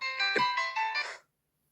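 A mobile phone ringtone plays close by, a bright electronic melody of several quick tonal notes lasting about a second before cutting off into silence.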